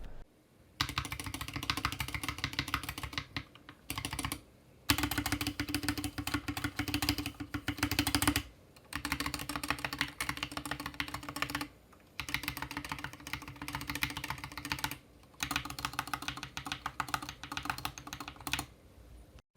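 Steady, fast typing on a TMKB GK61 60% mechanical keyboard with stock, unlubed stabilizers, a dense patter of clacky keystrokes with a few brief pauses, close up and with no talking.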